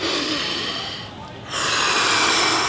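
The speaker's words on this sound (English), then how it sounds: "So really deep breathe, belly breathe, like" Deep belly breathing demonstrated up close, a long airy inhale-exhale rush with a short quieter dip in the middle before the breath swells again, loud and alone.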